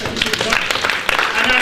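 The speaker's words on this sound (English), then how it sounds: "Round of applause for Cindy." Applause from a classroom audience, dense and steady throughout with some voices and cheering mixed in.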